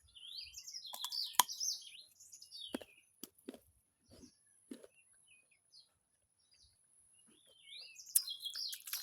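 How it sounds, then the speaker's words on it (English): Birds sing in a quiet village setting, scattered chirps and tweets near and far with long gaps of near silence between bursts, rising again at the end; no talking. "in the village, you can only hear sounds of birds singing"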